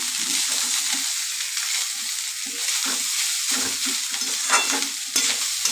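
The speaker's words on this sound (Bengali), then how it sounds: "ভালোভাবে নাড়ছি, ভাজা ভাজা করছি।" Cooked rice stirred into frying potatoes with onion, garlic and chilli in a pan, steady sizzle with repeated scraping stir strokes throughout, close and alone.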